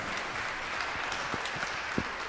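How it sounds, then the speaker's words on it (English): Audience applause at a community forum talk, sustained clapping from a room full of people, even and continuous with a few sharper individual claps standing out. "Can we have some applause on this?"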